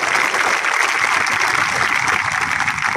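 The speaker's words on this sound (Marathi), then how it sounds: "तुमच्या सर्वांसाठी एक मोठ्या टाळ्यांचा गडगडाट होऊन जाऊ दे" A large rally crowd breaks into loud, dense applause for the local youth, a continuous roar of clapping that holds steady for the whole stretch.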